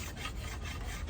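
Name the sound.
cabinet scraper scraping wood off a hickory bow limb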